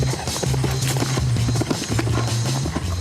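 Horses' hooves clip-clop steadily at a rustic Cantal breeding farm where the mares live outdoors year-round, a close, continuous patter of footfalls with no talking.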